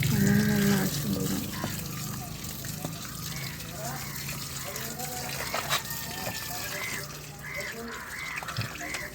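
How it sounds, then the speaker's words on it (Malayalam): Water is poured onto a freshly planted Calathea lutea outdoors, a soft, steady splashing under faint bird calls, with a brief voice near the start. "നല്ലോണം വെള്ളം ഒഴിച്ച് കൊടുക്കുക."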